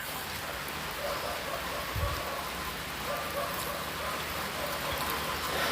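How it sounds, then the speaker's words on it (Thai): Soft, steady patter of rain falling on surfaces, a continuous hiss with a brief low thump partway through. "ก็ฝนมันตกอ่ะ"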